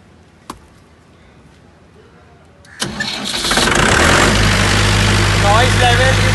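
An 82 kVA diesel generator starts up after a couple of faint clicks, then settles into a loud, steady running roar with a low hum that fills the remaining seconds.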